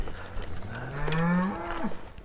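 A cow in a herd in rural southern Colorado lets out one long, deep moo that rises and bends at the end, with a faint second call behind it, heard at night with no voices.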